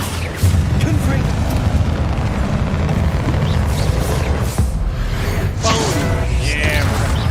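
Confringo blast spells in the Hogwarts Legacy video game, a steady roar of booming explosions and whooshes with rumbling low end, loud and continuous, mixed under a player's talking voice.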